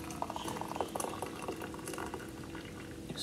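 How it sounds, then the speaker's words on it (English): Water at a rolling boil in a pot for fresh mint tea, with dense bubbling, popping and gentle patter throughout, close and fairly loud, no voices. "So we're gonna get some boiling water, all right?"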